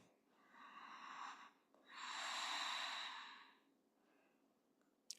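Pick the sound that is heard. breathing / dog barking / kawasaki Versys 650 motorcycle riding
breathing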